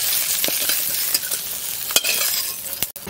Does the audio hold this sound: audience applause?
no